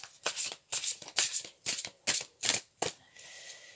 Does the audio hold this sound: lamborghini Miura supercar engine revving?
no